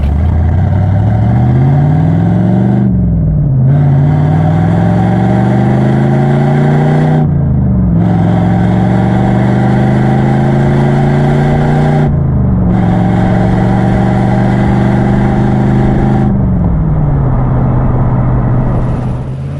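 Chevrolet Iroc-Z engine at a loud, close cold-start idle on a frosty morning, with four repeated rev cycles whose pitch climbs and then drops sharply between them, and no talking.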